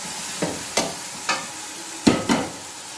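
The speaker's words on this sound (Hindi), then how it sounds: "टमाटर डालकर मसाला अच्छी तरह भूनूंगी" Tomato and onion masala fries in a pan for masala bhindi, with five distinct spoon-scraping strokes at an uneven rhythm over a low, steady frying hiss.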